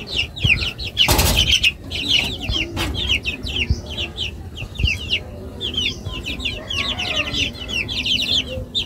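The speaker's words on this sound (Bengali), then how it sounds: "এই মুরগিগুলো খাবার দিছি" Tiger breed chickens cluck busily while being fed, with a sudden burst of wing flapping near the start and scattered scratching and thuds among the steady chatter of the flock.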